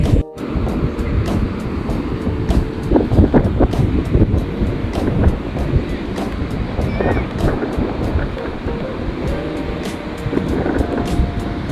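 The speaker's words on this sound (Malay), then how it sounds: "Angin kuat petang ni." Strong gusting wind buffets the microphone outdoors on a beach at high tide, a continuous roar with rumbling bursts and no voices.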